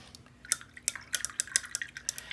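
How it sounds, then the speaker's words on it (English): A watercolor paintbrush swishes and taps in a water jar during cleaning, a quick irregular series of small close splashes and drips, fairly quiet with no talking. "I'm washing my brush very, very well, checking that it's clean"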